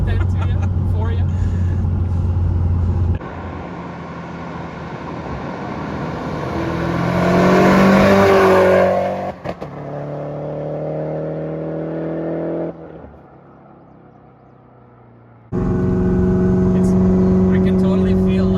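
A Stage 2+ FBO Subaru STI launches with launch control and then makes flat-foot shifts. The engine is loud and close, revving hard and climbing in pitch with abrupt breaks between gears, then settling to a lower drone.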